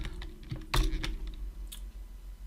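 Fingers type a spreadsheet function on a computer keyboard, giving a handful of close, crisp key clicks in an uneven rhythm, with one louder stroke near the middle.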